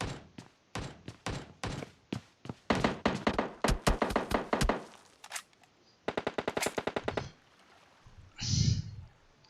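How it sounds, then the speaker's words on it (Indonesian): Rapid bursts of automatic gunfire in a PUBG Mobile online tournament grand final, loud and close, with several long volleys and scattered single shots, then a brief pause and a low thump near the end. "Ada tembakan?"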